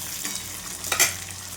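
Chopped tomato cooks with softened onion in a pan, a short close burst of frying hiss with a spoon stirring through the mixture, no voices present.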